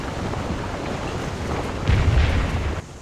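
Artillery fire in a Scourge of War battle, with a rumbling low roar and a heavier boom partway through, under a dense battle wash with no voices.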